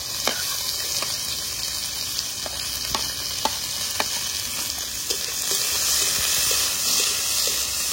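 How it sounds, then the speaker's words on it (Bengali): Dried chillies, bay leaf, whole cumin, chopped onion and tomato paste fry in hot oil on a stove, a steady close sizzle with occasional sharp stirring taps against the pan. "তেলে ফোড়ন দেবো শুকনো লঙ্কা, তেজপাতা আর গোটা জিরে, পেঁয়াজ কুচি, লঙ্কা কুচি আর টমেটো বাটা।"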